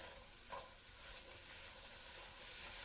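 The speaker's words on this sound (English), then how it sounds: "we're going to add all of our onions in. Just want to give it a good little stir first to get it nice and coated with the butter" Onions stirred in melted butter in a pan give off a soft, steady sizzle and hiss, quiet and continuous, with a faint scrape of stirring near the start.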